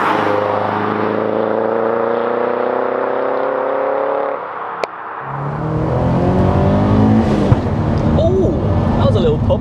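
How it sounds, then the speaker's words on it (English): A turbocharged 340bhp Toyota GT86 revs hard and climbs through the gears. A sharp pop cracks out on the upshift before the engine pulls again, loud and close from inside or near the car. "Oh, that was a little pop on the upshift."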